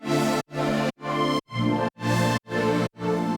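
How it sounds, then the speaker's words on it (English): A Serum 2 synth pad voiced for chill house plays seven evenly spaced sustained chords, each held about half a second with short silent gaps between. The chords sound full and warm with a bright upper shimmer, and no one speaks. "The pad sounds like this."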